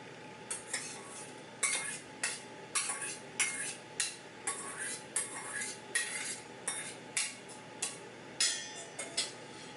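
Sauteed onions, garlic and jalapeno pepper are spooned into a mixing bowl, with about a dozen regular scraping clinks of a metal spoon against the dish over a quiet background.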